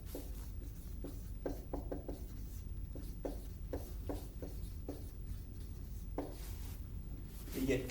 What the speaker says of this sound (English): I'm going to try and write big so you can see